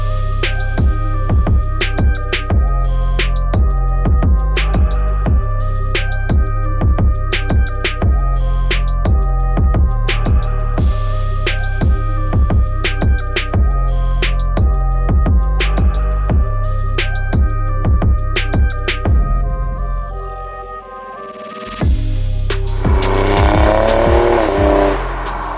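A 2018 Alfa Romeo Stelvio Quadrifoglio with a 2.9 twin-turbo engine accelerates hard through repeated rising gear pulls, each shift sharply audible. Near the end it drops to a brief lull, then surges loudly again.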